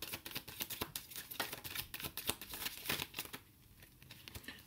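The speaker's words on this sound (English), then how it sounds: "Let me shuffle again." Tarot cards are shuffled by hand in a quick series of soft papery riffles and snaps, close and fairly quiet, with no talking.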